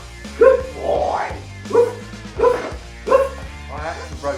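Frank, a tall dog, lets out a handful of short, loud barks with gaps between them, close by, while people talk around him.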